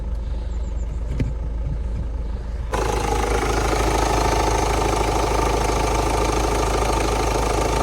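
A 2015 Ford Focus 1.5 diesel engine settles into a steady idle after a short quieter stretch with a faint knock, then runs loud and even with constant mechanical clatter.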